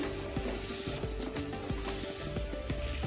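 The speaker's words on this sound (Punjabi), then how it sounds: "ਟਮਾਟਰ ਪਾ ਕੇ ਮਿਕਸ ਕਰ ਲਵਾਂਗੇ" Tomatoes being stirred into sizzling spices in a pan over a low gas flame, a steady close-up frying hiss with scraping stir strokes, no talking.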